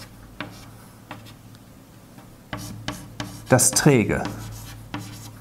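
Chalk or marker strokes on a board during a German-language yoga lesson, scattered taps and scratches rising to a busier stretch of writing, with a brief spoken phrase partway through.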